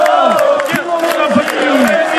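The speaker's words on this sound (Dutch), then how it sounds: "Een applaus voor ons nummer 10." Fans gathered on a town market square for a football team's player presentation cheer and shout loudly for a player, with a dense crowd roar and rising whoops that fill the brief moment.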